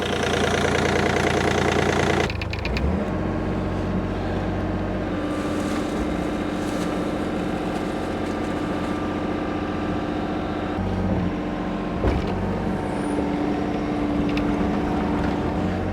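A tired engine restarted after its battery went flat in the cold runs steadily at a loud, close idle with a knocking beat, after a brief rougher opening burst, and no one talks.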